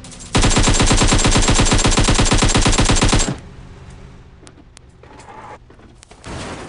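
Sustained automatic gunfire in the mobile battle-royale game PUBG Mobile, a loud, rapid, unbroken burst lasting about three seconds, then quieter ambient game sounds with a few distant shots.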